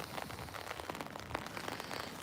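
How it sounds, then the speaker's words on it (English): Steady patter of rain falling on a surface, with scattered heavier drops ticking through a continuous soft hiss. "Nope, it's just rain."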